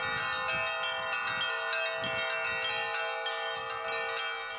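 Church bells ring continuously in Veliky Novgorod at a medieval reenactment festival, overlapping peals with a steady bright shimmer, loud and sustained throughout without a pause.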